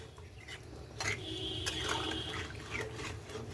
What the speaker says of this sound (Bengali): এখন আমি অল্প পরিমাণ জল দিয়ে ঢেকে দেব